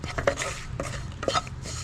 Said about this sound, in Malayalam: ഇതെല്ലാം കൂടി നന്നായിട്ടൊന്ന് മിക്സ് ചെയ്യാം